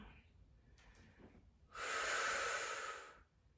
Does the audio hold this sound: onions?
no